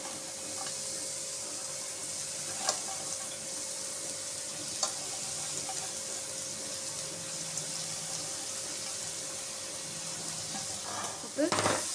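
Shredded cabbage sautés in a hot pan for Burmese egg chicho street food, with a continuous soft sizzle and a few sharp spatula clicks and scrapes against the metal.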